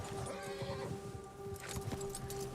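A horse in Red Dead Redemption 2 whinnies amid game ambience, with soft clip-clop of hooves and a low steady hum underneath; no one speaks.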